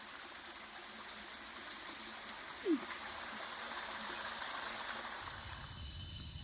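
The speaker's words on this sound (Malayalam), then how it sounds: "ചെറിയൊരു തോടാണ് ഇപ്പം, വേനലായതുകൊണ്ട് വെള്ളം പറ്റിപ്പോയി." A small forest stream running low in the dry season gives a faint, steady wash of flowing water, with one brief soft knock partway through and a slightly fuller rush near the end.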